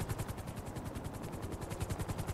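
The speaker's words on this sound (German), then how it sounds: "Ich schieß den Helikopterpiloten tot, weil er in Luft schwebt." Helicopter in GTA Online, a steady rapid rotor thump chopping continuously and fairly loud, with no talk over it.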